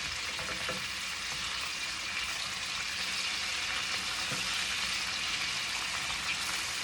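Potatoes and onions fry in a pan with a steady, soft sizzle and crackle, close and continuous, with a couple of faint clinks.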